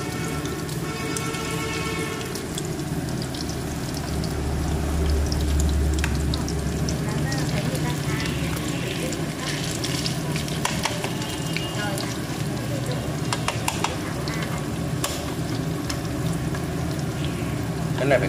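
Fish cakes fry in a pan, four at a time, with loud continuous sizzling and crackling oil close by while a voice talks over the cooking.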